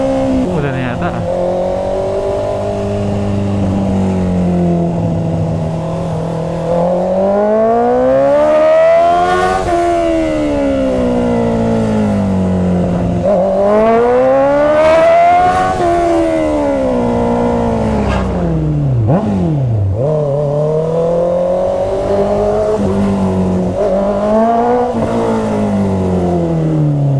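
A Honda CB650R motorcycle engine revs up and down in repeated loud swells over steady running, with a rider talking over the engine noise.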